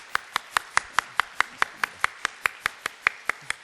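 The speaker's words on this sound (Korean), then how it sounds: "자, 우리 박수로 환영하겠습니다" Applause from a small church congregation welcoming visitors, heard as a steady run of about twenty distinct, evenly spaced claps, close and clear, with no talking.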